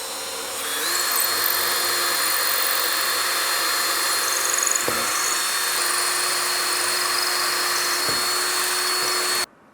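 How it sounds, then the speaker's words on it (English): A power drill bores a hole in a cabinet, whirring steadily for several seconds, a loud continuous high-pitched grind with a couple of brief dips in speed before it stops. "when I put the drill bit up there, we're already started and it won't move around on me."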